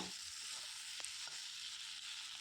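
Ginger garlic paste frying in a pan for a fish and cauliflower-potato curry, a steady bright hiss of oil throughout with a couple of soft utensil taps, no voices.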